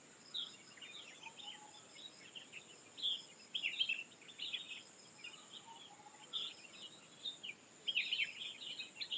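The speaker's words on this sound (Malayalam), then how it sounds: "കിളികളുടെ ശബ്ദം കേൾക്കാൻ പറ്റുന്നു" Many small birds chirp and sing in the Vagamon hills. Bright, scattered bursts of calls come in irregular clusters, some near and some farther off, over a constant high insect drone with no talking.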